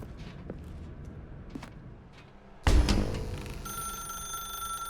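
A telephone rings in The Stanley Parable video game, a sudden loud, sustained electronic ring that starts partway through after a few soft footstep-like taps.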